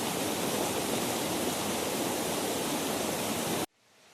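Pole Creek flowing where it enters along the Deep Creek Trail, a steady close rush of water that fills the whole clip before cutting off abruptly near the end.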